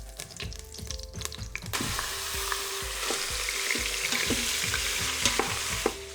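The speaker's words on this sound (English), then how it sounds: "Just remove them from the pan and add your ground beef." Ground beef frying in a pan, with a bright constant sizzle and repeated scraping stirs of a utensil against the pan; after a brief quieter opening it grows into a steady, loud frying hiss.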